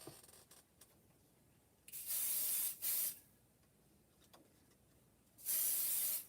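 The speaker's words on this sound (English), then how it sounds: "I'm gonna spray this with pixie spray." Pixie spray hisses from an aerosol can in three bursts, a short one, a brief second puff, and a longer final spray, each close and sharp against a quiet room.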